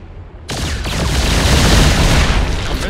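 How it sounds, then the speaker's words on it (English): Heavy artillery bombardment in the StarCraft II real-time strategy game, a loud sustained barrage of overlapping booms and blasts that begins abruptly and keeps rumbling with no pauses. "Commencing bombardment."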